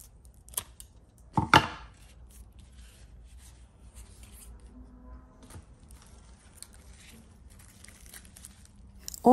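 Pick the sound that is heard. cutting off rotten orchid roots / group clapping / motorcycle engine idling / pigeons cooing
cutting off rotten orchid roots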